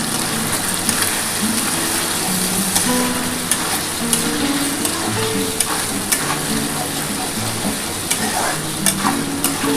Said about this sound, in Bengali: এবার ভালো করে মশলাটা কষিয়ে নিতে হবে।